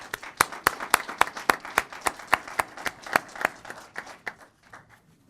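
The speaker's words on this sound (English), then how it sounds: "Let's give them another round of applause." Applause at a city council meeting, a small group clapping in distinct, fairly regular claps that thin out and fade toward the end, moderately loud with no talk over it.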